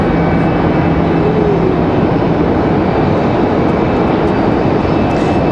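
Copa Airlines Boeing 737 MAX 9 jet at Raleigh Durham airport, a loud, steady low engine rumble and whine, constant throughout.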